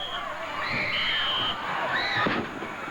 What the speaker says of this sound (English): And listen to the crowd here.